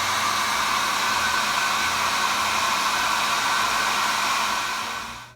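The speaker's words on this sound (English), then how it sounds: "We're going to turn our hair dryer on high and see if we can get our ball to float." A hair dryer blows steadily on its high setting, loud and close, a dense even whoosh with motor hum that holds for about five seconds before beginning to wind down at the end.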